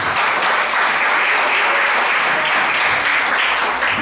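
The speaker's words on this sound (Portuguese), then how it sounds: "exalte ao Senhor com palmas bem alegres" Joyful clapping from a church congregation praising God during an evening service, a loud, continuous roar of many hands clapping without a break, with no voices standing out above it.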